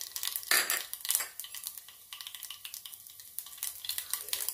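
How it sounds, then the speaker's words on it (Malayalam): Mustard seeds crackling and sizzling in hot coconut oil for a tempering, a steady fizz with quick popping and occasional spoon scrapes against the pan, close but soft, no talk. "ചൂടായ എണ്ണയിലേക്ക് കടുക് ചേർക്കാം"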